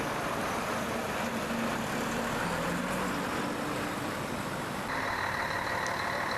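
A Leyland DAF 1000 truck rolls past at a distance, a faint, steady engine drone with some wavering tones, brightening slightly toward the end.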